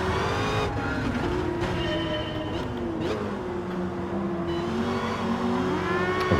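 A Dodge Challenger SRT Demon muscle car with traction control off in the Gran Turismo 7 racing game, its V8 engine droning loudly and continuously with pitch rising and falling through shifts, plus intermittent tire squeal.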